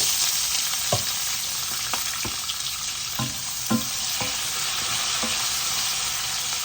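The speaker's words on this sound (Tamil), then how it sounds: "இப்போ வெந்தயம் வெங்காயம் வதங்கிட்டுது" Fenugreek seeds and onion sauté in a pan for ivy gourd gravy with a steady loud sizzle. Occasional scraping stir strokes sound close, and there is no talk.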